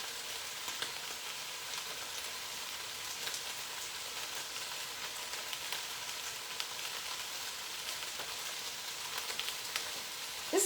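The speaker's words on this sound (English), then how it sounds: "Still cooking. Still sizzling." Steady, crackling sizzle of teriyaki chicken frying in a pan, a constant hiss at even loudness throughout with no talking.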